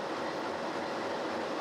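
A train rolling steadily along the tracks from Cusco toward Lake Titicaca in Peru, a constant low rumble and rattle with no voices.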